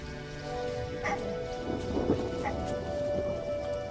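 A thunderstorm gathers over an African canal: steady rain patters under low rolling thunder that swells near the middle, with faint animal calls in the background.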